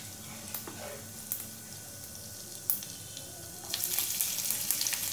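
Cumin seeds sizzling in hot oil in a pan, a soft steady crackle with a few sharp pops, growing louder and busier toward the end.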